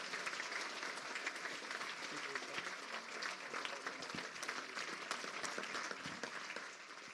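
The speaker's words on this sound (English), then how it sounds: "Let's give him a round of applause." Steady audience applause after a talk at an evening gathering, dense and even clapping from a sizable crowd that holds for the full stretch without a break or voice.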